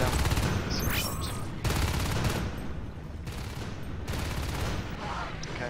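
Dense, loud video game gunfire rattles in sustained automatic bursts separated by short gaps, with overlapping shots and battle noise throughout.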